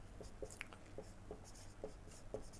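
A pen scratches across paper as notes are written by hand during an electrician theory class, faint and close, in short strokes spaced about half a second apart.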